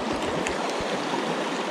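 Creek water runs steadily at a spot used for trout fishing on Crooked Creek, a continuous broadband rush close by with no talking.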